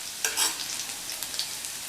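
Sliced garlic goes into hot sesame oil with popped mustard seeds and reddening urad dal, frying with a loud, continuous crackling sizzle and some stirring, heard up close with no talk.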